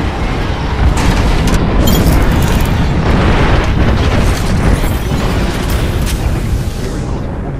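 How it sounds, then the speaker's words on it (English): Airstrike explosions in the video game Apex Legends, a continuous roar of heavy, booming blasts that stays loud for several seconds before easing off slightly at the end. "Heads up, we got an airstrike on us."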